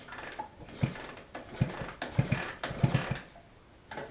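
A 2005 Honda CR85R dirt bike is kicked over several times, the kick-start lever ratcheting and clunking in a series of close mechanical strokes with no engine catching.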